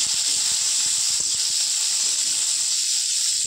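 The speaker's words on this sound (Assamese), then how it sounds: "বুটটো ভাজি লৈ আছোঁ।" Chickpeas frying in a little refined oil, giving a steady close hiss with scattered faint pops and crackles throughout, no voices.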